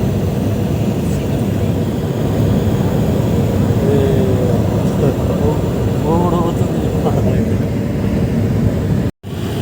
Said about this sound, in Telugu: ఇప్పుడు విమానం అయితే ల్యాండ్ అవుతుంది.